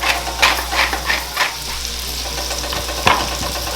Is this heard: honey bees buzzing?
no